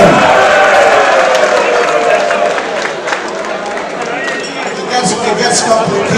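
An audience at an evening event with a vice president in Nigeria breaks into loud, sustained applause, dense clapping and crowd noise filling the space steadily for several seconds.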